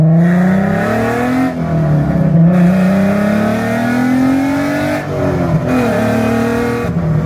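A Volkswagen MK6 with a swapped 3.6 VR6 and 4Motion drive revs hard through the gears from inside the cabin, loud rising engine pulls broken by brief shift gaps, with no talking.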